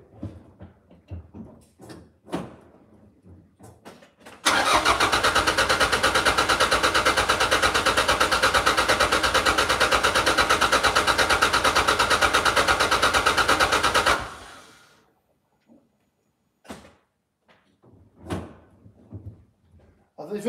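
A troubled Toyota MR2 engine starts, then runs as a loud, steady, near roar for about ten seconds before cutting off abruptly. Quiet talking and handling noises come before and after.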